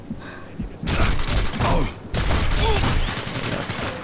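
Gunfire in the video game Sniper Elite 3 comes as loud, close bursts of rapid shots and thuds with short ringing tails, after a brief quiet opening and a short gap in the middle.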